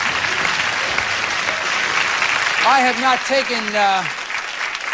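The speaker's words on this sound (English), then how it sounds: "Give them a round of applause." A studio audience at a 1986 television game show applauds for ten beauty queens, loud dense clapping filling the whole stretch as someone talks over the tail end.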